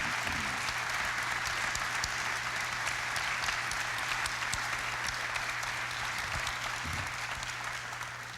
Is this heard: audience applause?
yes